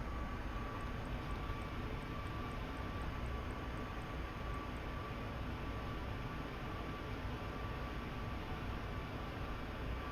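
Airliner taking off in Microsoft Flight Simulator 2024, departing Las Vegas, a steady loud broadband engine roar that holds evenly throughout, with a faint repeating high ticking early on.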